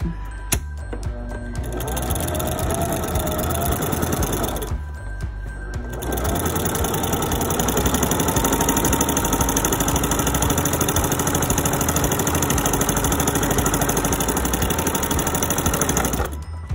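A sewing machine runs a straight stitch along the edge of a fabric face mask, a fast steady mechanical whir close by with a couple of brief pauses near the start.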